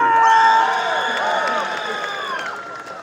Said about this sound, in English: That's a pretty pretty resounding uh, applause there.